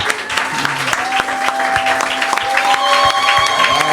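A church congregation at a Sunday service applauds loudly and steadily, a dense sustained clapping with some cheering and voices mixed in, close and filling the room throughout.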